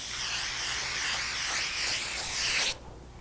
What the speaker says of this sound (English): we're going to spray both of these with the foam adhesive